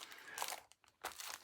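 Sheets of inexpensive decorative paper crinkle and rustle as they are handled up close, in two bursts of crackling with a short quiet gap between.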